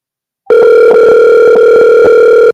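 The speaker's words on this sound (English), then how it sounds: "It's ringing. Can you guys hear it ringing?" A steady electronic phone ring tone drones continuously for about two seconds, loud and close, with faint clicks underneath.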